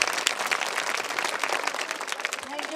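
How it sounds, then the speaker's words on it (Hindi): Audience applause at a prize distribution for a general knowledge exam, a busy, fairly loud burst of many hands clapping in quick irregular rhythm, with a faint voice briefly heard near the end. "अब तालियां बजाइए"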